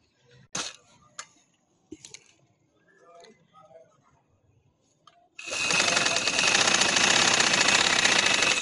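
An electric sewing machine stitches a full sleeve in a steady, loud, rapid whir that starts abruptly after a few soft handling clicks and taps.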